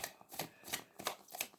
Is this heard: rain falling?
no